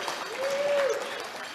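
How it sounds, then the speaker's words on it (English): A Rotary club meeting audience breaks into a brief burst of applause, a short wash of clapping heard in the room with a thin tonal whistle rising and fading through it. "Thank you for that rousing round of applause, fellow Rotarians."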